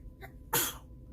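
A single short, sharp sneeze indoors during a quiet coloring session, with a faint breathy burst just before it and nothing else around it.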